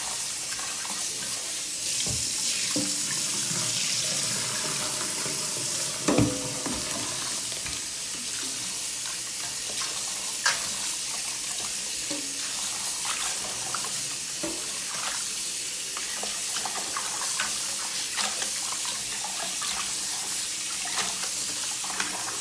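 Raw shrimp are rinsed under running tap water in a kitchen sink, a steady close gush with occasional splashes and clinks as the shrimp are handled, lasting throughout with no talk.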